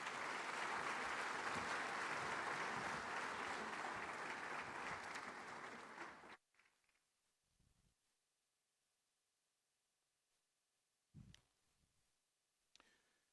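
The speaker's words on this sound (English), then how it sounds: "Another round of applause, please" A conference audience at the 2023 Afreximbank event in Ghana bursts into loud, dense applause that holds steady for about six seconds, then cuts off into near silence broken by a few faint scattered knocks.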